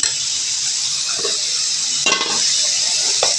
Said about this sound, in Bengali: এখন চিনকি শুটকিটা মশলা দিয়ে একটু কষায় নিলাম ভাইজা দেখো